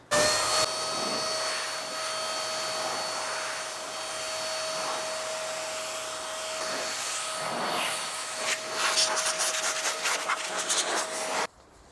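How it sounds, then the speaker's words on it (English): A blower whines steadily while drying a freshly washed car, a continuous airy hum with a shifting rush of air and brief rattling bursts near the end before it cuts off. "I could probably just blow dry this."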